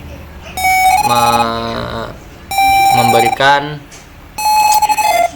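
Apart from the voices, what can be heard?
Arduino buzzer sounding water level alarm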